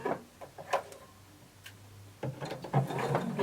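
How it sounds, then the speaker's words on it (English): A sewing machine stitching a flared skirt seam at 5/8 inch allowance: short bursts of quick mechanical ticking and whirring, a low steady hum in the middle, then a denser run of clattering stitches at the end, close and fairly quiet. "we're going to start to sew from the dot that's just below our notch to the bottom of our skirt"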